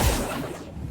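A brief whooshing rush of the Accio summoning spell in the Hogwarts Legacy video game, one swift airy swoosh with a low thud at the start, close and fairly loud.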